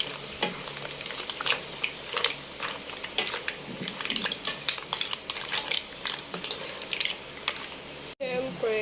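A utensil stirs seafood kinamatisang in a sizzling pan, giving a run of scraping, clinking strokes over a steady fry, with a voice talking at times.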